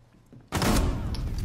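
A sudden loud burst of gunfire in the game Rainbow Six Siege cuts in after a quiet moment, its harsh blast ringing on and sustained to the end of the short clip, with no voices.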